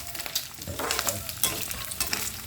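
Pork pieces frying in a pan until brown for pork binagoongan make a steady, close sizzle, broken by repeated scraping stirs, with no voices.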